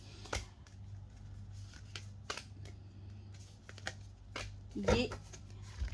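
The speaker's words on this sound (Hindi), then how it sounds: "उनके लिए हम कार्ड्स निकालने जा रहे हैं।" Tarot cards shuffled and drawn at a table, a few sharp riffles and soft slaps spread across the clip, the loudest burst near the end, with a steady low hum underneath.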